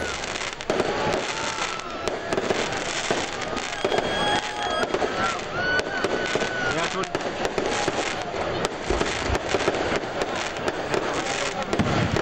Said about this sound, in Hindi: गवर्नर हाउस पेशावर में भी आतिशबाजी।